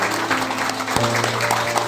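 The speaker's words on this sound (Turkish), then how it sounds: "Evet bir alkış alalım bakalım" Applause from a group gathered for talks and prayers during an Umrah trip, steady clapping throughout with a low hum running beneath it.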